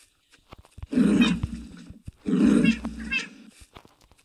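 Two drawn-out, rough cat growls in a fox simulator video game, close and fairly loud, separated by a short pause, with soft clicks in between.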